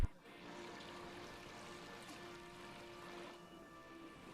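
A hand dipping into and stirring the cold spring water of the Dan River, a soft continuous splashing and trickle at close range that fades out gradually, with no talking.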